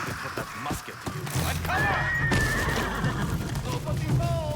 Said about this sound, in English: Mad Goro's horse